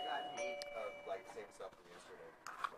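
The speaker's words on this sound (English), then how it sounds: "sorry about the doorbell." Home doorbell ringing indoors, with a couple of sustained chime tones early on that fade out, mostly under ongoing talk.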